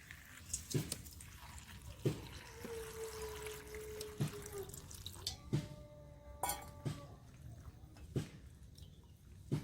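Water pours and drips while mushroom pieces are washed, with soft splashes, trickles and occasional light clinks of a bowl, faint and close in a quiet kitchen.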